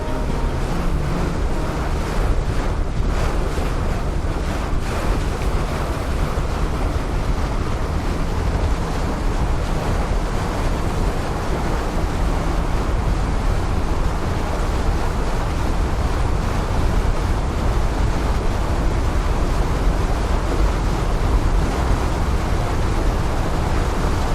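Strong tidal current churns and bubbles into a whirlpool along the British Columbia coast, a continuous broadband rush of moving water blended with steady wind buffeting the microphone from a boat, with no talk.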